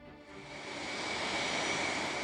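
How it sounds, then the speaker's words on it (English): A wind-up jet engine in the Puzzle House game spools up into a steady, rising roar that holds loud and even to the end. "we've brought the jet engine back to life using a wind-up"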